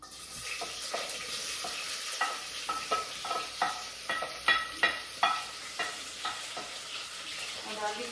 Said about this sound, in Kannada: ಹಚ್ಚಿಟ್ಟಿರುವ ಈರುಳ್ಳಿ ಮತ್ತು ಮೆಣಸಿನ್ಕಾಯಿನ ಹಾಕೊಬೇಕು